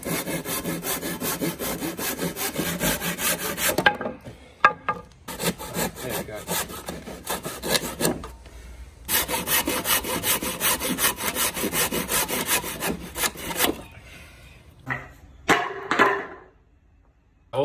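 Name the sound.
saw cutting timber for a calf raise block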